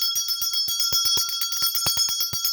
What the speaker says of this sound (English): I am just going to ring this bell just to clear some of the energies up